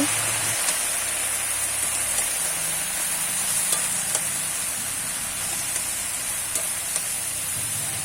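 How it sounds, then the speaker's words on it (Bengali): Chopped taro leaves are stirred in a hot pan of oil after spices are tempered, giving a steady, close frying sizzle with light scraping throughout and no talk. "কেটে ধুয়ে রাখা কচুর শাকগুলো দিয়ে দিচ্ছি একটু নেড়ে চেড়ে নিচ্ছি"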